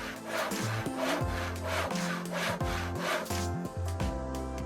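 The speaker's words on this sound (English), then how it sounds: "Now let's check out the sharpening process." A knife is drawn repeatedly through a homemade sharpener built from plastic pipes with aluminum clamping plates, making a continuous close grinding rasp with rhythmic strokes and scraping, no voices.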